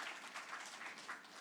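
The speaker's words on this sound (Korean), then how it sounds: "우리 박수로 환영하십시다" A church congregation claps to welcome new members during a Sunday service, a soft, distant patter of applause that continues steadily and without speech.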